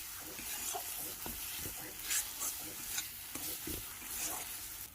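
A spatula stirs spice paste in a wok over a medium flame for rohu fish rezala, with steady oily sizzling and a few sharp scraping strokes against the metal, close and clear with no talking.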